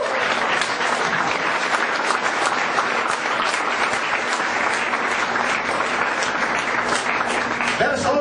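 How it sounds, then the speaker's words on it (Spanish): Church congregation breaking into loud, sustained applause during a Spanish-language sermon, a dense steady wash of clapping from many hands throughout. "Vamos a brindar un fuerte aplauso a Jesús."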